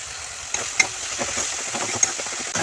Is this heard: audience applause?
no